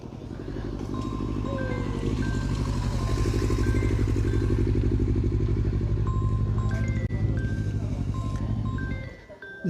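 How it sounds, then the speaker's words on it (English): An official motorcycle passes at a cycling cross-country race near a bridge, its engine droning loudly and steadily before fading at the end, while a commentator talks over it. "Here comes the official motorcycle."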